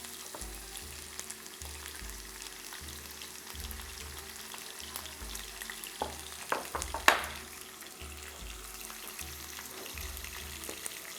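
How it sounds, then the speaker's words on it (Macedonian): Peas and smoked bacon in sauce sizzle in an earthenware pan with a steady, close crackle. Stirring scrapes and clinks rise briefly in the middle, and no one speaks. "сето ова ќе се крчка во земјена тава"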